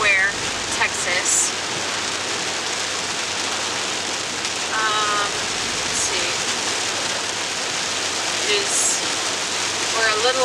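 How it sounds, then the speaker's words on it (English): Heavy rain drumming on a vehicle during a drive through rural Texas, a steady broad hiss heard from inside with light voices and brief squeaks over it. "We've run into some heavy rain."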